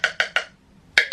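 Makeup powder compact tapped out into its lid: three quick light taps, a short pause, then two more, close and fairly quiet with no voices.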